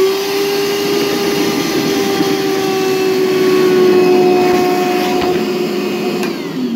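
A Dewalt DCV581H wet/dry vacuum with its filter removed runs loud and steady, sucking up about two quarts of water, its motor whine holding a constant tone with slight slurping shifts near the end.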